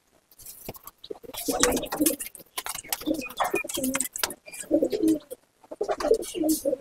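Dobaj pigeons in a loft coo repeatedly in deep throaty bursts, close and fairly loud, with short pauses between phrases.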